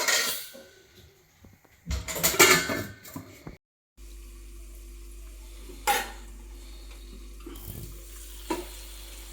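A lid goes onto a pot of frying desi chicken, with a few sharp metallic clatters and scrapes standing out above a low, steady sizzle in a quiet kitchen.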